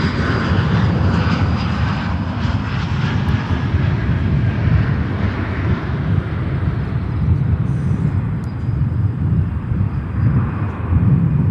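A United Express Embraer 175 jet at Chicago O'Hare gives off a loud, continuous engine rumble and roar, steady throughout with no pause.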